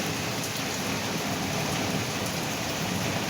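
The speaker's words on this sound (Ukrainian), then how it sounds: "таке враження, що кінця і краю не буде цьому дощу, що буде лить і лить" Steady heavy rain falls on a garden with roses and plum trees, a dense, even hiss with no talk.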